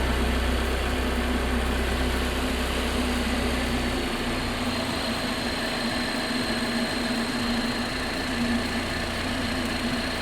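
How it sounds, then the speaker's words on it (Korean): A steady, low BMW Z4 (G29) sDrive20i engine idles continuously with a constant rumble and faint hum, close by and unchanging throughout. "엔진 소리 일정하네요."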